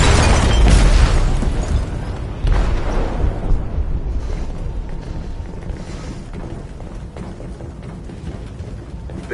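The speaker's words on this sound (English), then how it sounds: "They detonated an explosive in the hold." An explosive detonating in a ship's hold in the video game Detroit: Become Human, a loud close boom followed by a second blast and a long rumbling roar that slowly fades.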